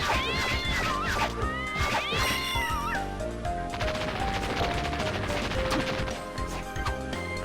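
Cat meows from the video game Castlevania: Dawn of Sorrow, two quick mewing calls early on over loud game music and combat sound effects.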